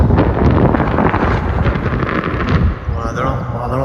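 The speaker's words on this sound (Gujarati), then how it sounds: "વાયરો છે અત્યારે" Strong wind buffets the microphone outdoors beside farm fields on a rainy morning, a loud continuous rumbling roar that eases slightly near the end, with a voice talking underneath.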